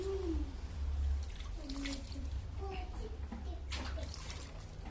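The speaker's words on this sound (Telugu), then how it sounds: "ఇలా వాటర్ అయితే చల్లుకుంటే సరిపోతుంది" Water splashes and trickles steadily onto potting soil in a container used for growing onion greens at home, with voices talking over it throughout.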